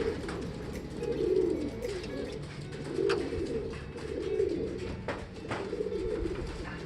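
Racing pigeon hen cooing in repeated soft, throaty phrases at close range, several coos in a steady rhythm over light background noise, no talking.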